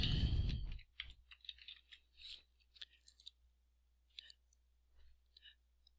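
Soft, sparse clicks of typing on a computer keyboard while entering text into a PDF text box, heard close and faint, with irregular keystrokes and pauses after a brief low rumble at the start.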